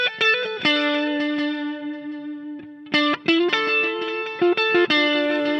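Guitar with chorus and distortion effects plays the flute line from a song intro. It slides up into a long held note, then picks clear single notes with short gaps between phrases.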